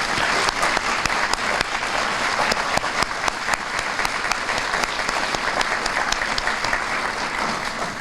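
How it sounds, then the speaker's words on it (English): Audience at a community breakfast applauding steadily and loudly throughout, dense clapping that holds for the whole stretch and tapers slightly at the end. "Let's all give him a round of applause."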